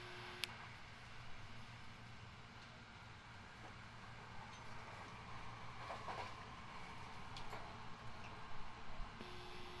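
Low steady rumble of a Hankyu Kyoto Line rapid train rolling along the rails between Minamikata and Awaji, with faint rattles and clicks throughout and no talking.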